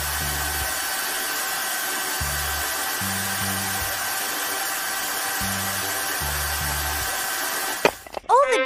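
A cartoon drill bores into stone, a steady loud whirring drone with repeated low pulsing bursts, ending in a sudden clattering break.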